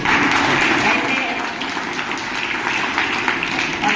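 Audience at a 2024 karate and kung-fu championship applauds in a dense, steady wash of clapping that carries on for the whole stretch, with a faint murmur of voices mixed into the crowd noise.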